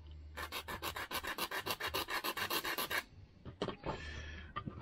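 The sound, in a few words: sanding the ends of a wooden ship model part with sandpaper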